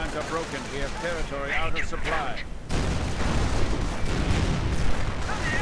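Battle sounds from a WWII strategy video game: a flurry of gunfire gives way to heavy, rumbling explosions and artillery booms that fill the clip densely.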